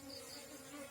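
Bees buzz in a steady, close, continuous drone as a bee nest is removed, with no voices.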